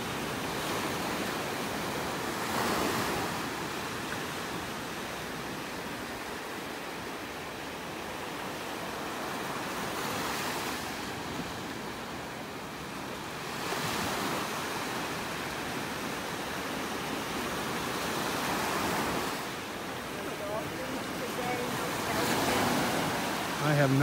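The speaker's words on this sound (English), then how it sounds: "listening to those waves rolling in." Ocean waves roll steadily onto a beach in North Naples, Florida, a continuous wash of surf that swells every few seconds, with wind noise across the microphone throughout.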